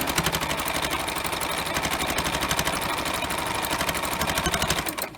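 A sewing machine stitching lace runs steadily and continuously, a fast even mechanical whir and needle tapping, close and moderately loud, slowing and stopping at the very end.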